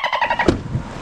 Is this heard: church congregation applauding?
no